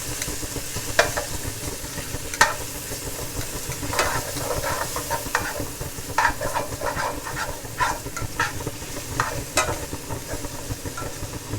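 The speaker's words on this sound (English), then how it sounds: "We're going to add in our onion. I'm going to saute that or mix that up," Chopped onion sautéing in a hot pan, a steady close sizzle with hissing steam and repeated scraping stirs and clinks scattered throughout.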